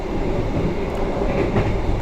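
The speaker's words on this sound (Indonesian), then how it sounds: "Kurang lebih 20 menit lagi kereta api Pasundan akan tiba di tujuan saya, stasiun Kuto Arjo." Pasundan economy-class train with upright seats running along the rails, a steady loud rumble heard from inside the carriage with continuous wheel and car noise and no speech.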